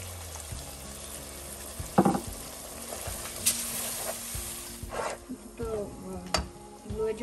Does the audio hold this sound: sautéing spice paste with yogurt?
yes